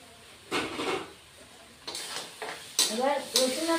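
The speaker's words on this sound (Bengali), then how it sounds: "এবার রসুন আর আদা বাটা দিয়ে আর একটু কষিয়ে নিব আলু আর কাঁচা কলা।" Potato and raw green banana chunks are sautéed with garlic-ginger paste for a fish curry, giving several bursts of stirring and scraping in a pan over a soft frying sizzle, fairly close.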